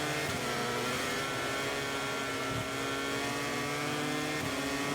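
Honda MotoGP bike engine in the MotoGP 24 racing game, a steady high-pitched droning rev held at full strain under power, continuous and fairly faint with no talk.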